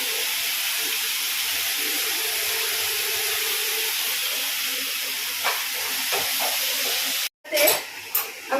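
Rui fish curry sautéing in oil in a pan gives a steady, soft sizzling hiss for several seconds, then a sudden break and a few clattering knocks near the end.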